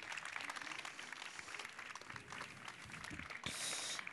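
Conference audience applauding the guests at the close of a session, a faint, diffuse patter of clapping that stays fairly even and ends with a brief hiss.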